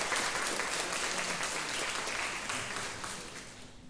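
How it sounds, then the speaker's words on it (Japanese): An audience applauds continuously at an outdoor afternoon music festival in a castle-ruins park. The dense, steady clapping fades slightly toward the end. "拍手でお願いします"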